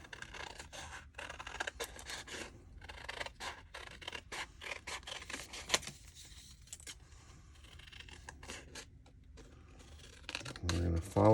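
Scissors snip through a footwear pattern in quick, irregular cuts, close and crisp, with soft paper rustling between the snips.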